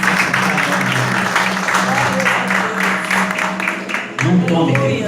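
A church congregation at an evening service claps steadily in a loud, sustained wash of applause, with voices and musical tones running underneath and a speaking voice rising near the end.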